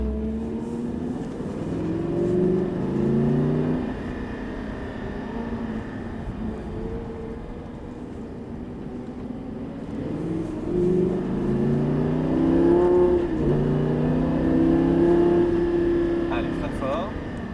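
Lamborghini Gallardo engine in the Actua GT racing game, a steady mid-pitched drone that rises and falls with shifting revs, swelling louder toward the end, with a voice talking over it throughout.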